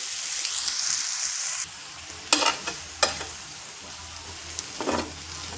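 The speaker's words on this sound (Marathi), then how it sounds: "आता आपण एकदा ठेचा परतून घेऊ" Green chili thecha being sautéed on a hot pan, a soft sizzle under a few scraping stir strokes and sharp clacks of a spatula against the metal.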